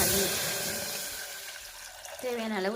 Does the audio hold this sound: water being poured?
yes